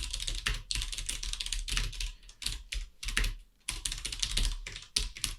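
Code is typed on a computer keyboard in quick bursts of clicking keystrokes with short pauses between, close and clear, no voices.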